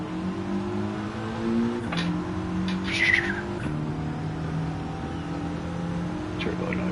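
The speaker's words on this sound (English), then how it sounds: "Turbo noise, turbo noise." A turbocharged Gr.4 race car in Gran Turismo 7 on Dragon Trail holds a steady engine drone that shifts pitch through gear changes, with a brief whistling burst, under a person talking.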